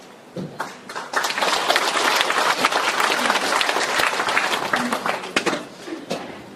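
An audience at a Korean folk song performance in a humanities forum claps together in sustained, dense applause, loud and close, swelling after a brief start and tapering with scattered claps near the end.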